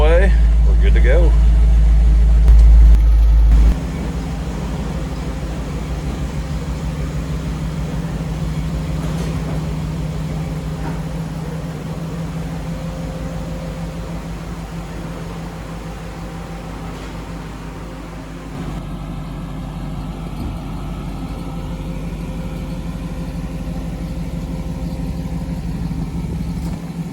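An old project car's engine idles steadily nearby in an Ohio winter, with a low constant rumble and faint lifter ticking, while people talk over it.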